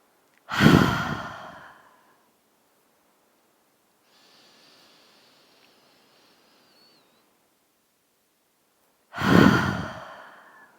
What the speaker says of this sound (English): deep inhale, fill up the lungs. Exhale, open mouth, let it go.